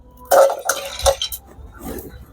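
Peanuts being stirred as they roast in a hot pan: a few sharp metallic scrapes and clinks of a utensil against the pan, close and irregular, with quiet gaps between strokes.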